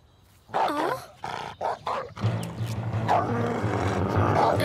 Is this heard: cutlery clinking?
no